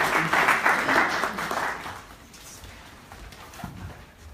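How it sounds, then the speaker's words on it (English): An audience at a Mental Health Awareness Week event gives a short burst of applause that fades after about two seconds into quieter room noise. "So let's just give her another round of applause."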